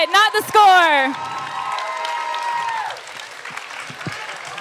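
An audience at a student spoken word poetry event applauds after the scores are shown, a steady wash of clapping following a brief burst of voices and cheering at the start.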